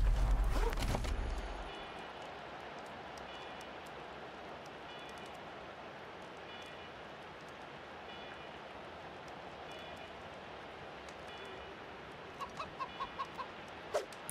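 A chicken in the video game Wasteland 3 gives a few short, soft clucks near the end, against a steady low ambient background after a brief louder noise at the start.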